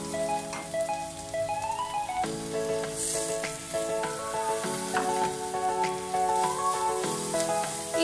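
Grated coconut fries in a pan with a steady sizzle, heard under constant melodic background music.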